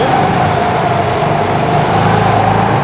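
Go-kart engine on a track, a loud continuous buzzing drone that stays fairly steady with slight dips and swells as the throttle is eased off and reapplied.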